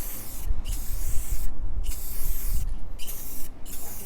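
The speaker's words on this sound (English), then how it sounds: "And then we'll switch it up with the Rust-Oleum Clear Matte Spray." Rust-Oleum Clear Matte spray can releasing bursts of hissing aerosol outdoors onto a model cherry blossom tree, four or five broad sprays separated by short pauses, close and steady, with wind rumbling underneath.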